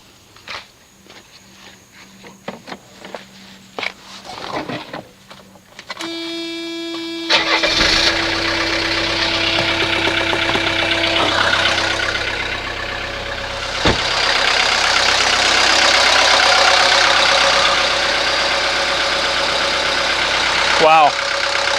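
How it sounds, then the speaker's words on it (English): A 1983 Mercedes 240D diesel cranks after a battery replacement, catches and settles into a loud, steady clattering idle that carries through to the end, with some handling noises before the start. "Now all there's left to do is to see if it starts."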